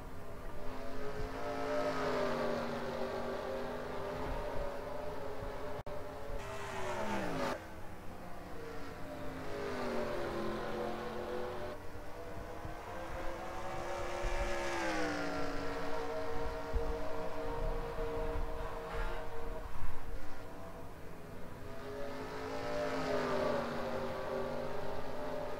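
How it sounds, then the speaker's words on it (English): Stock cars race in a Toyota Owners 400 event in a racing video game, with engines droning steadily and loudly and their pitch sweeping up and down as the cars accelerate and lift, with no talk over them. "you got teammates of Stuart Haas racing right behind him"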